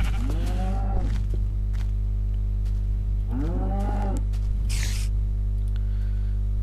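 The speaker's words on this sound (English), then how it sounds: "Two cows." Cows in the Minecraft video game moo twice, each call loud, close and drawn out, with a steady electrical hum running underneath and no talking.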